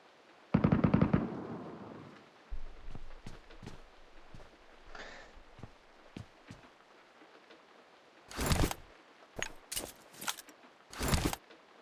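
Gunfire in PUBG Mobile: a loud opening burst of rapid shots, then scattered distant single cracks, and several sharp, heavy bursts toward the end, with quiet gaps between.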